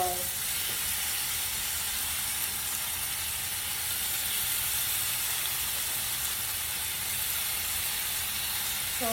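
Beef steak pieces sizzle in a very hot stir-fry pan, a loud, constant hissing fry close up, with brief utensil clinks at the start and end and no speech.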